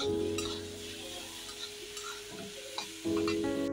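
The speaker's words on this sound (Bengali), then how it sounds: "তারপর একটু পাঁচফোড়ন দিয়ে ভালো করে নাড়াচাড়া করে ছোলাগুলো নামিয়ে ফেলবো।" Chickpeas fried with panch phoron in a home kitchen pan give off a loud sizzle, with frequent scraping stirs close up, and the sound gets louder near the end.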